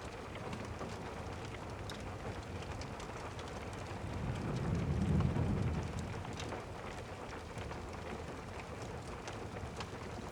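Rain falls steadily on a mountain hut, a soft, even patter and hiss at low level, with a deeper distant rumble swelling briefly near the middle before fading back into the rain.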